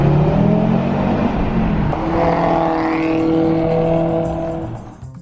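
A 2019 Audi RS3 saloon drives on the road, its engine note droning steadily with rising and shifting tones, loud and close with road and tyre roar beneath, easing slightly toward the end.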